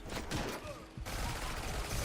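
Rapid, dense gunfire in the fast first-person shooter Mullet MadJack, continuous loud crackling bursts with a brief break midway.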